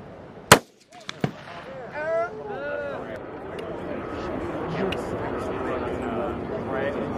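A single sharp, loud gunshot fired as the ceremonial first shot at a Marine Corps marksmanship competition cracks once near the start, followed by a smaller report and then continuous talking and crowd chatter.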